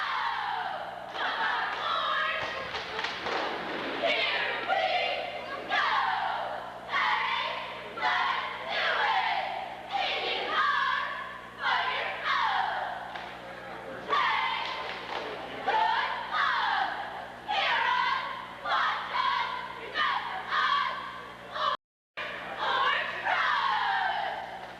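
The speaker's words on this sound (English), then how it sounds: "Well, let's listen to the cheer." Cheerleaders at a Waterloo versus Wellsville high school basketball game shout a loud rhythmic chant in unison, repeated phrases rising and falling in a steady pattern with stomps and thuds beneath, echoing through a gym.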